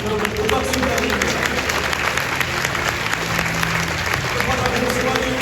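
A large stadium crowd applauds steadily at Oh Seung-hwan's baseball retirement and number-retirement ceremony, dense clapping with a low crowd murmur underneath, loud and sustained throughout.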